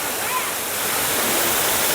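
Lower Falls waterfall near Asheville, North Carolina, at a swimming hole, gives a steady, dense roar of falling water, loud and unbroken throughout.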